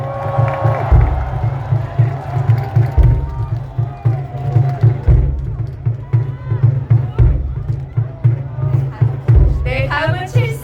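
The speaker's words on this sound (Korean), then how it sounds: "여러분 다시 한번 큰 박수 부탁드리겠습니다" Crowd at an outdoor presidential election rally in front of Seoul City Hall, claps and cheers in a loud, steady wash while a rhythmic thumping beat pulses underneath and voices call out over it.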